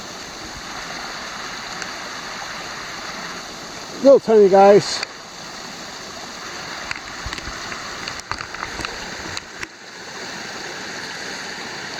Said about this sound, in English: We got a little bit of waterfalls.